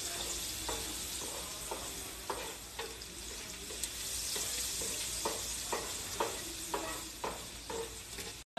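Food fries in butter in a pan with a close, continuous sizzle, while a utensil stirs and scrapes it in a steady rhythm of soft repeated strokes; no one speaks.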